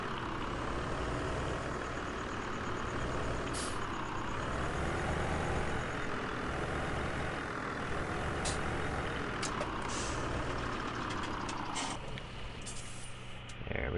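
A truck in a farming simulator game rumbles at low speed while maneuvering to park, with a steady engine drone, periodic air-brake hisses and a faint high beeping.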